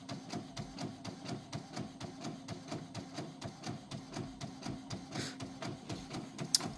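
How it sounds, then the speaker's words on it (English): An Epson WF-7720 sublimation printer prints images with a quiet, regular mechanical chug as the print head shuttles back and forth about three times a second, ending in a brief click. "So we have our images printing out here."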